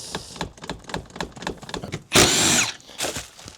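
Rattling clanks and knocks of work on a towing rig, then a loud two-second whirring burst from a power tool driving a torque bit on a non-factory replacement bolt, with a shorter burst after.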